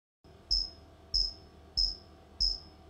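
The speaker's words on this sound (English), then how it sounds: "I kind of like crickets, right?" Synthesized cricket chirps from an Xfer Serum patch with shortened sustain: four evenly spaced, sharp high chirps, each with a soft low thump, over a steady faint hum.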